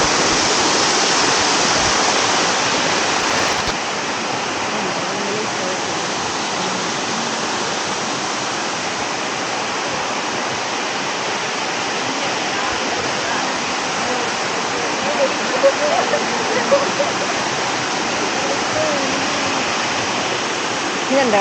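A waterfall at Pattathippara in a forest hiking area roars as a steady, dense wash of falling water, loud and continuous throughout with no break.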